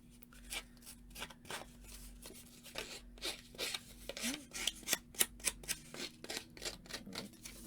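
Paper edges being roughed up and distressed by hand for a mixed media altered art piece, heard as a close series of short dry scraping and rasping strokes repeated in an irregular rhythm, with no talking.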